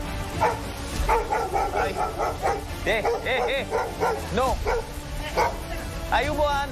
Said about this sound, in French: Il y a un chien, mais vraiment costaud, qui commence à aboyer.